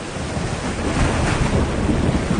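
Big sea waves whip up during a hurricane, a dense continuous roar of surf and wind noise with no voices.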